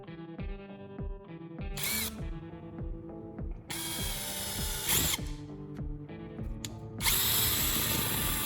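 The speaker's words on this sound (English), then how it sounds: "when drilling a small hole through the wooden handle, I secure it firmly in a vise" A small power drill whirs in repeated short bursts, with clicking ratchet sounds and brief high whines as it bites through a wooden handle held in a vise nearby.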